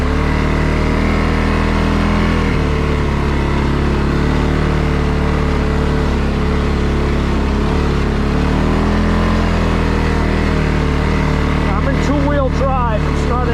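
2022 CFMOTO CFORCE 600 ATV climbing an uphill trail, its engine droning steadily and close, with a low rumbling tone that shifts in pitch as the load changes, plus a brief rattle near the end.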